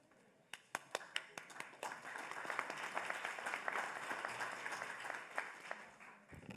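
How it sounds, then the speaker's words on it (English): Audience applause for a moderator at a journalism conference session on fake news, starting as a few scattered claps and swelling into steady, moderately distant clapping from the room before fading. "You just show up and get applause."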